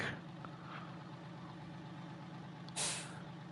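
A video-game International Case IH truck engine idles steadily in Farming Simulator 19, then a sharp hiss of air brakes releases near the end.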